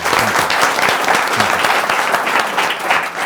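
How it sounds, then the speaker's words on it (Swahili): An audience claps together in a short, dense burst of applause, loud and continuous for a few seconds, with no voices in between. "Wapigeni makofi za hoja"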